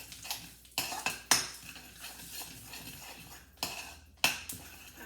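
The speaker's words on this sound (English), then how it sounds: "Mix them together." Spices being stirred in a pan for curry, a few sharp scraping and clinking strokes of a utensil against the pan in irregular bursts, close, with faint sizzle beneath.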